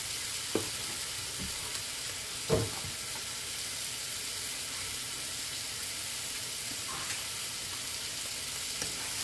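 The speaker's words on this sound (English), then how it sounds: "You just want to cook your shrimp." Shrimp fry in a pan with a continuous hissing sizzle, broken by a few sharp pops and utensil clinks, close and steady, no one speaking.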